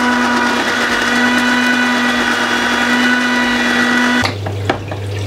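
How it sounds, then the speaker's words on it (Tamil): Fenugreek seeds being ground in an electric grinder, a loud steady mechanical whine and hum that cuts off abruptly near the end, followed by a couple of light knocks. "முதல்ல வெந்தயத்தை நல்லா அரைக்கலாம்."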